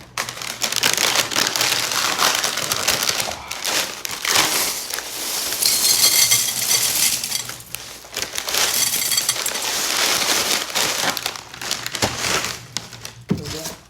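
Corn flakes are poured from a freshly opened pack into a bowl, giving a sustained dry crunching and rattling rush of flakes with a few brief pauses, close and fairly loud.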